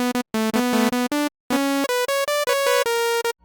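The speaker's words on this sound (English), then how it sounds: "Here is Serum, and we start with a saw wave" Bright, buzzy saw-wave lead from the Serum synthesizer for hardstyle, playing a choppy run of short and held notes with brief gaps, loud and dry with no voices.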